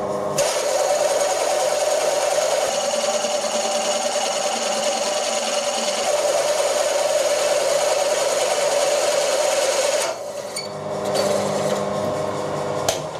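Lathe turning cast iron dry, a steady loud machining drone with a strong tonal hum and bright metallic cutting noise running continuously, changing character briefly near the end.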